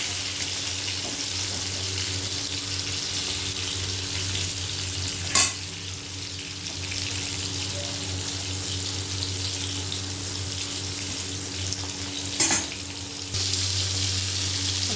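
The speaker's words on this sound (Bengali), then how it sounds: "একটু উল্টে পাল্টে ভেজে নেব পটলটা" Pieces of salted pointed gourd (potol) fry in a pan with a steady, close sizzling hiss over a low hum, broken by two brief clinks of stirring around the middle.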